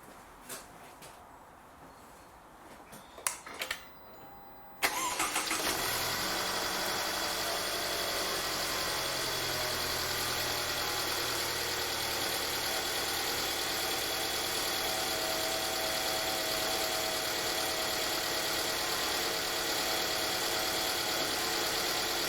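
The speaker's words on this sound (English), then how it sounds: "I'm going to start the engine and make sure everything is running properly." A few faint clicks and knocks, then a Mercedes C180 W204 car engine starts and settles into a steady, even idle hum that continues for a long stretch.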